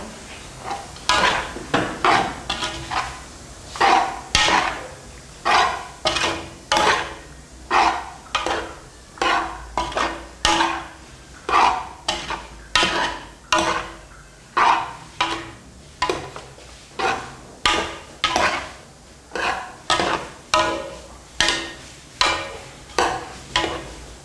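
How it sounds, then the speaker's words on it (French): A spoon stirs a mixture in a cooking pot with rhythmic scraping strokes, about one per second, close and clear with no voices. "On tourne le tout pour mélanger."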